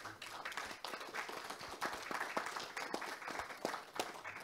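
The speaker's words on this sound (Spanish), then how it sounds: "Un aplauso, por favor." Scattered clapping from an audience at a mining talk event, steady and moderately loud for a few seconds, with a faint voice now and then underneath.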